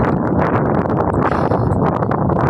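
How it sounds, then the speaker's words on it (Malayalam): Cold wind gusts loudly and continuously across the microphone at a roadside, a rough, close rumbling buffet with rustling texture and no clear pauses. "നല്ല തണുത്ത കാറ്റടിക്കുന്നുണ്ട്"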